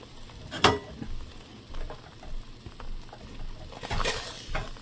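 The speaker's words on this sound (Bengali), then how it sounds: "এখন আমি মাছটা উল্টিয়ে দেব।" Hilsa fish sizzles and spits in hot oil in a frying pan, with a couple of sharp crackling bursts as it is flipped over, close and moderately loud.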